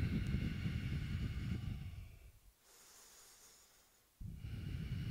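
Heavy breathing during a power flow yoga class, a loud rough breath held for about two seconds, then a quiet pause and another strong breath beginning, close to the microphone with no talking.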